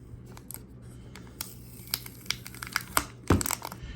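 Protective plastic film being peeled off a RedMagic 8 Pro Plus phone box, heard as a series of close, quiet crinkles and short tearing rasps with a sharper rip near the end.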